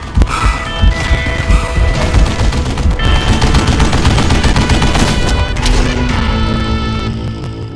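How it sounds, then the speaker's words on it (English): A Gatling gun in the Western shooter Call of Juarez: Gunslinger, fired from a shielded spot inside a tunnel. It roars in loud, rapid, unbroken bursts with heavy impacts and crashes throughout. No one talks over it. "Kid Curry opened up on me with a goddamn Gatling gun"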